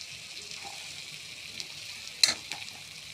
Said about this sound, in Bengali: দিয়ে আস্তে আস্তে নাড়তে থাকবো।